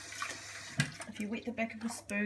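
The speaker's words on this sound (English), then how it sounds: "if you wet the back of a spoon" Tap water runs over the back of a spoon in a kitchen while someone presses sticky batter into a baking dish, a short splashy stream heard close up with a voice talking over it.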